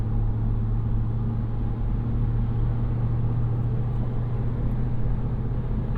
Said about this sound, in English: Plenty of gears to work with. All 10 speeds moving us forward. Getting up to highway speed here.